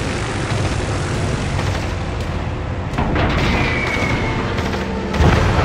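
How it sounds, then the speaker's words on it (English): Aircraft engine drone and rumbling explosions from a Kaga carrier's bombing run in World of Warships, a steady loud roar with a brief whining tone and a sharper burst near the end. "So I go back in for another bombing run."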